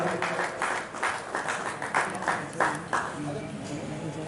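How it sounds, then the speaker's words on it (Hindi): An audience applauds at a cycle rally reception in Lalitpur, a steady crowd clapping with rhythmic swells, heard from the middle distance with murmuring voices and a faint loudspeaker underneath. "जोरदार तालियों से इनका अभिवादन करें।"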